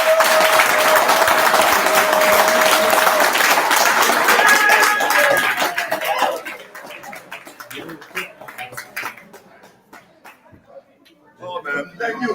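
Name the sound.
team clapping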